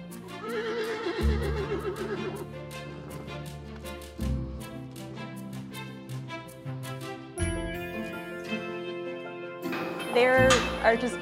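A large draft horse lets out a wavering whinny early on at a farm among other big horses, heard over steady background music with more sustained tones throughout.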